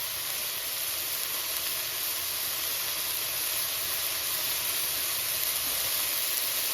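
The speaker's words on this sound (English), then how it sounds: "It's all frying all the way up" Mushrooms sizzle steadily in a hot frying pan, a loud, continuous hiss that holds unchanged throughout with no talking.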